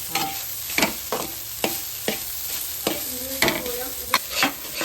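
Mustard seeds, small shallots and curry leaves sizzle in a hot pan while a utensil scrapes and stirs in repeated strokes, loud and close.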